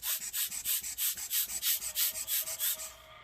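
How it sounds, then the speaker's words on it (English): A faulty fan in an ASUS GX531G laptop rattles and whirs as air is blown into it, with a fast rough pulsing scrape that repeats steadily, close and fairly quiet, with no voices. "definitely that fan's making some bad noise"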